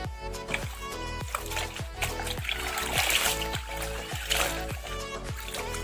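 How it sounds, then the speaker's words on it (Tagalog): Hand-rinsed clothes being wrung out over a basin, with repeated wet splashes and squelches arriving in a regular rhythm of roughly one per half second and trickling water between them, close and fairly quiet, with musical tones playing underneath. "Banlawan ng mabuti ang damit. Pigain ito ng mabuti."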